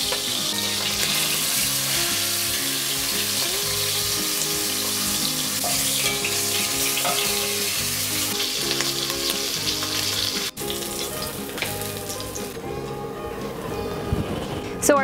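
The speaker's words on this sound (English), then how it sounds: "we're gonna brown our short rib" Beef short ribs brown in a hot oiled pan with a loud, steady sizzle and crackle, heard close throughout while a person talks over the frying.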